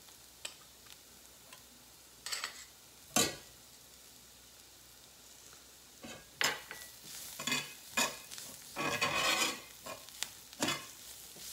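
Garlic hits a hot frying pan for a shrimp sauce, giving a soft steady sizzle broken by sharp scraping and clinking bursts of stirring utensils, close and fairly quiet, with no talking.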